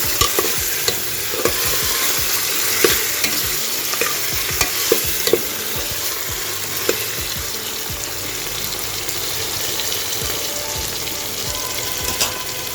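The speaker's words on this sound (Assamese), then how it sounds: "ভালকৈ লৰাই দিছোঁ।" Chicken with crushed black pepper is stirred in a hot pan for an Assamese chicken curry, giving a steady close sizzle broken by repeated scraping clicks of the spoon against the pan, with no talking.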